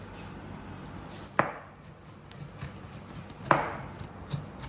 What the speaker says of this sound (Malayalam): ഇറശ്ശേരിക്ക് ഇങ്ങനെ കൊത്തി അരിഞ്ഞാണ് ഇറശ്ശേരി വെക്കാൻ വേണ്ടി എടുക്കുന്നത്.